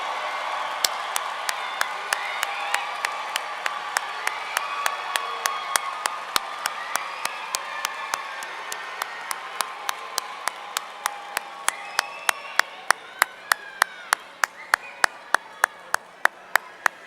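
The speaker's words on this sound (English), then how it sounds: "please stand so that the graduating class can applaud you" The graduating class at a university commencement ceremony applauds for a sustained stretch, a dense, even wash of clapping with some scattered cheering and a regular sharp tick running through it.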